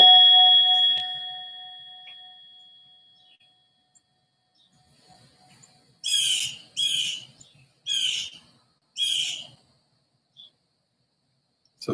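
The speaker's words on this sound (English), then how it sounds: "Actually have a real bell this week." A real meditation bell is struck once, giving a clear ringing tone that fades slowly over about two seconds into silence. A few short, bright chirping sounds follow later.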